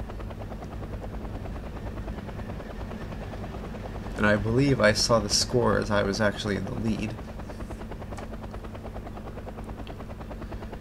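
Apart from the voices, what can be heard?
transport helicopter landing in the video game Wargame: Red Dragon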